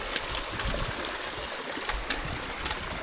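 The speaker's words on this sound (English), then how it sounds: "All these nice little streams of water you have to cross." Small stream of water running across a hiking path on England's coast to coast route, a steady close trickling and gurgling wash that carries on with no voices.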